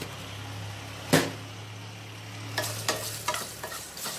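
Dried red chillies fry in a pan with a soft, continuous sizzle, marked by one sharp spatula knock early on and then a few quick scraping strokes near the end, close and with no talking.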